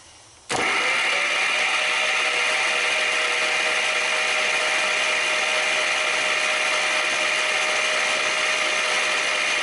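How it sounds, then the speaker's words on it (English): A 1949 Buick straight-eight engine, long out of use, cranks over on its starter after a short quiet moment, then holds a loud, steady, droning whir for the rest of the clip. "we're going to crank it over and see if any oil shoots out anywhere"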